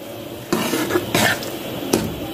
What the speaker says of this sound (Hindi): टमाटर को डालकर हम इसको इतना पकाएंगे कि ये टमाटर यहाँ पर नरम हो जाए।